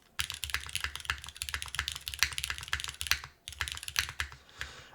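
Someone types quickly and steadily on a Neo65 Core Plus 65% mechanical keyboard with the spacebar gaskets removed. Dense, close clacking keystrokes form a brief flurry that pauses once and then resumes. No one speaks.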